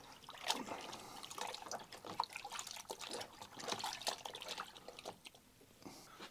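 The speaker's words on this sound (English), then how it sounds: "So I've just put them in a bucket of warm water and put lots of fur liquid on them first. Give them a good hand wash." Car seat covers are hand washed in a bucket of warm soapy water, with close, irregular sloshing, squelching and dripping as the fabric is worked and squeezed.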